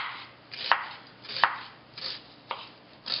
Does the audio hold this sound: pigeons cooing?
no